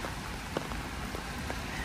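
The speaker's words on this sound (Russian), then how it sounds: "Дождь не заканчивается." Heavy September rain falls on a flooded street in Odessa, a dense constant hiss of drops striking wet pavement with scattered sharper splashes, close and unbroken.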